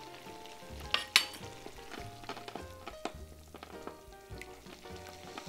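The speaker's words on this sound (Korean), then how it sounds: "딱 한 큰술만 넣어서 저어주겠습니다" A spoon stirring a starch and purified water mixture in a pan for a mushroom rice bowl, soft scraping and light clinks in an uneven rhythm over a faint background, no talk.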